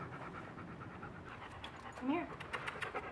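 A happy pet dog pants steadily at close range, with a brief whine or whimper near the middle, while an owner talks and gives commands indoors.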